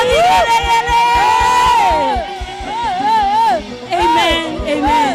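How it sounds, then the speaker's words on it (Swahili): A church congregation at a Sunday service cheers and ululates together, high trilling ululations and whoops rising over a loud crowd roar with rhythmic thumps beneath. "Pigia Yesu shangwe na vigelegele."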